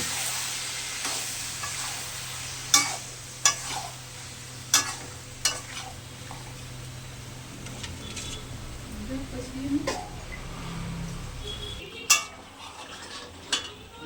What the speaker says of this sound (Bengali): এবং মাংসটা কষিয়ে নেব